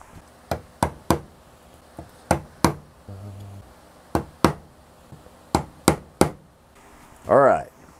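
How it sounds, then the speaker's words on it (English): Sharp chisel strikes cutting a notch for a truss rod nut in a wooden guitar neck, a dozen separate percussive knocks in an uneven rhythm, close and loud, with a brief scraping pass and a short burst of another sound near the end. "Now we'll cut that with the chisel."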